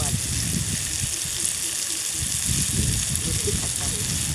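Mustard seeds and chilli crackle and sizzle in hot oil for a bitter gourd curry, a steady close frying hiss with faint pops running throughout.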